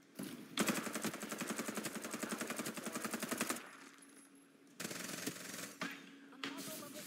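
Rapid automatic gunfire rattles in a fast, even burst for about three seconds in the Farlight 84 video game, then a pause, followed by shorter bursts of shots.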